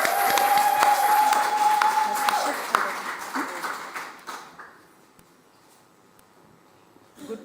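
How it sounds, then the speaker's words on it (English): Applause from an audience at a Gender Just Climate Solutions awards ceremony, dense clapping from many hands that holds for several seconds, then thins and fades into near quiet, with a brief tone in the background. "A round of applause maybe for the All India Women's Conference"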